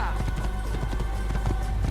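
Galloping horse in the Assassin's Creed video game, a steady rapid clip-clop of hooves running through the short stretch, with a voice talking over it.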